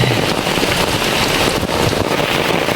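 Heavy rain falls steadily on a quiet village, a dense, continuous hiss of drops hitting surfaces. It is fairly loud and even throughout, with no voices.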